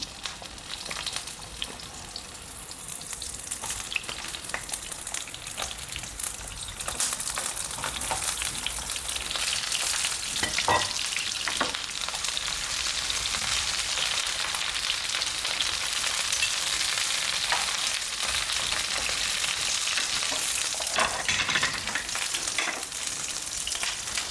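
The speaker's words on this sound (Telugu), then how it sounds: "ఆయిల్ హీట్ అయ్యాక వంకాయల్ని వేసుకుందాం" Round slices of brinjal fry in about two spoons of hot oil in a pan, giving a steady, close, crackling sizzle that grows louder and denser after the first few seconds and continues with no talk.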